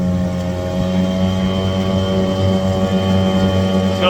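Small waterfowl sneak boat running under motor power, a steady droning outboard hum with stable tonal whine, close and continuous with no talk.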